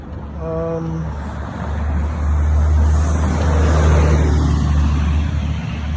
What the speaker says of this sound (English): I saw a few people on that bus that just passed by